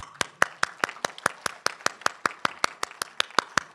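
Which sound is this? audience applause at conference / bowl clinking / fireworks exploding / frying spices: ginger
audience applause at conference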